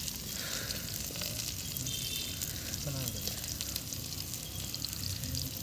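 Oil sizzling in a pan as food fries, a steady crackling hiss at moderate distance with faint background voices and household noise.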